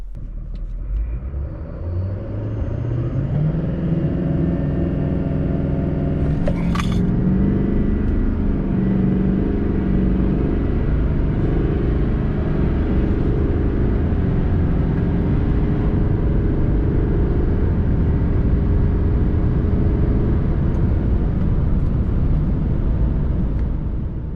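A Duramax L5P diesel pickup truck launching in drive on a drag strip: a deep engine rumble that climbs steadily in pitch through the gears as it accelerates, loud and sustained with a brief shift blip.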